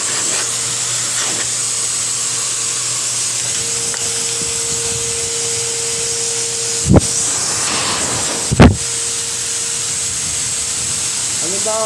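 A pet hair blower drying a young cat after a bath runs continuously with a steady high-pitched whirring hiss. Two brief loud thumps cut in, and a voice speaks faintly underneath.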